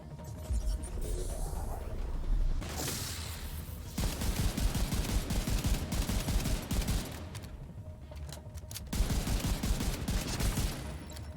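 Sustained bursts of automatic gunfire in The Division 2, a loud rapid rattle that runs almost without pause across the clip, with brief breaks between volleys and mechanical clatter layered in.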